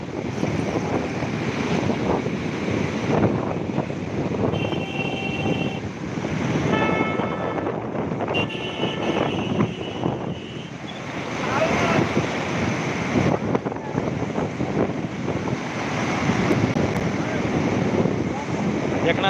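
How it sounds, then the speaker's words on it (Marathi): Strong wind roars at Khadakwasla dam, buffeting the microphone with a loud, steady rush of gusts that never lets up. "लय वारा आहे बाबा."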